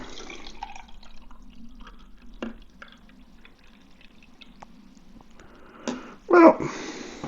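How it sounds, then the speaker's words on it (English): Non-alcoholic lager pours into a glass with a short liquid gush and fizzing toward the end, after a stretch of quiet trickling and faint background noise. "So we'll pour this one out."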